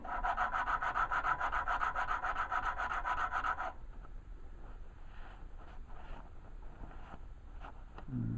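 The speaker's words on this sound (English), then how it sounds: "so that needs to be sanded until it's completely flat" A warped carburetor body is rubbed flat by hand on sandpaper, a loud, steady rasping scrape for several seconds, then softer irregular scuffs and handling noises.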